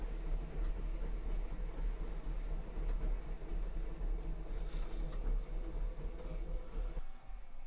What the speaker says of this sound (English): we'll drill that down to about 1/2 inch deep